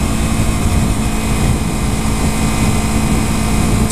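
A 300cc motorcycle engine while riding, a steady loud drone with wind rush, continuous and close throughout.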